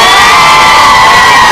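A large crowd at an outdoor political rally in Kibra, Nairobi cheers and shouts loudly, a dense, saturated roar of voices filling the whole moment.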